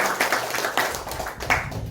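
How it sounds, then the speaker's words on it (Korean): A church congregation gives a welcoming round of applause for a visiting medical volunteer team at a Sunday service, a brief, muffled patter of clapping heard somewhat distant in a reverberant room. "우리 오신 분들 환영의 박수 하겠습니다"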